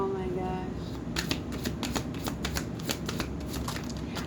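A deck of tarot cards is shuffled close by in a quick series of crisp riffling snaps, while a voice speaks softly at the start.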